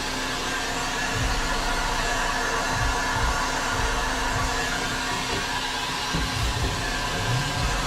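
A heat gun blows steadily while warming car sound deadener during an interior strip, a constant hot-air hiss and whine lasting the whole stretch with faint background knocks underneath.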